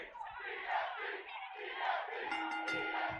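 A wrestling arena crowd in WWE 2K24 roars and chants in a sustained, loud swell behind a women's match, the massed voices rising and falling together.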